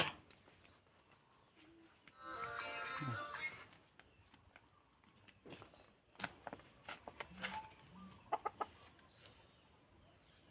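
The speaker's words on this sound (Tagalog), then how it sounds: "Andito may tandang dito, tandang." A rooster crows once in the middle distance, followed by scattered clucks and knocks in a quiet outdoor setting.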